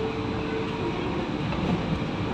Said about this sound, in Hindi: अब हाम्रो ट्रेन अब हाम्रो मोनोरेल जाँदैछ